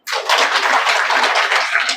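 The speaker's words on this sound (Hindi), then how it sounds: "बजाओ ताली।" An audience at a Brahma Kumaris spiritual talk in Jugsalai, Jamshedpur claps together in a dense, steady burst of applause that holds for about two seconds, loud and close, with no talking.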